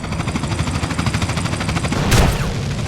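Rapid bursts of video game gunfire from GTA, a steady rattling fusillade throughout with a louder boom-like blast near the end, with no talk over it.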